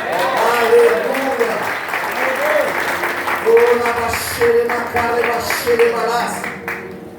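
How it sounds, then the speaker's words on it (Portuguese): Church congregation applauding during a sermon, sustained clapping heard under a preacher's loud voice as it continues. "Você pode aplaudir a Jesus?"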